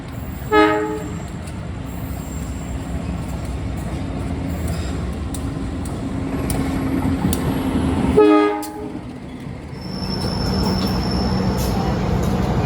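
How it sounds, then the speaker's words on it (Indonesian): An Indonesian KA Majapahit train passes a crowded Doho Penataran local commuter train, with steady rail rumble and wheel noise, a short horn blast near the start and a louder horn burst around the crossing point. "Kita bersilang sama komuter lain, kereta lokal Penataran."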